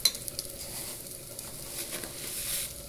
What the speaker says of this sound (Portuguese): Pra gente estar refogando nessa panela, eu vou estar refogando o arroz.